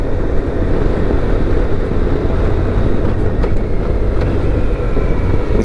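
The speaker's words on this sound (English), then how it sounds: "Just open the throttle a little bit and it's like zzz, zzz, zzz, making this zooming sound." A 2024 BMW K1600GT motorcycle accelerating under throttle, a loud, steady, close rushing roar of engine and wind that holds at an even level throughout without pauses.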